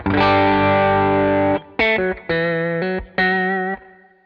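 Distorted Rivolta electric guitar on the middle pickup position with a rounded tone: a long sustained chord, then several shorter rhythmic chord stabs with brief gaps, loud and close.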